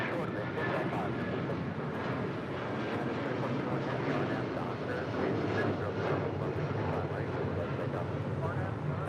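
A United Airlines Boeing 757-300 departing LAX for Chicago O'Hare, a continuous broadband jet roar with wind buffeting on the microphone, heard under a voice talking throughout.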